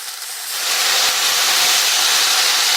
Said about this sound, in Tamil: எண்ணெயிலேயே நல்லா ஒரு 2 நிமிஷத்துக்கு வதக்கிக்கலாம்